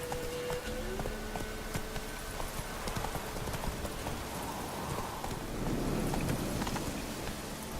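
Horse hooves clip-clopping steadily in The Witcher 3 video game, a continuous rhythmic trot over a dense game soundscape with rain-like background noise, moderately close and even in loudness throughout.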